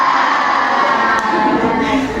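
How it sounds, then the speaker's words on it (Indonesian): Classroom of children doing a "tepuk hebat" clapping cheer, a short burst of rhythmic clapping mixed with young voices shouting together, loud and close. "Tepuk hebat untuk Rohim"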